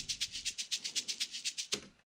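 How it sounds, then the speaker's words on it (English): A shaker loop sample from an organic house track plays a steady, even rhythm of crisp shaken hits, about a dozen pulses before a final accent and a quick fade to silence. "This is a shaker loop."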